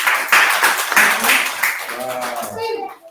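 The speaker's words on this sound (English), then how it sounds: "Your clap for us." An audience claps together in a quick, uneven burst of applause up close, thinning out as a voice begins speaking near the end.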